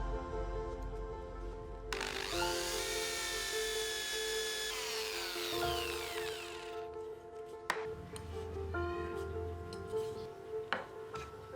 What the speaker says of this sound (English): I drill the mark using my DIY drill guide.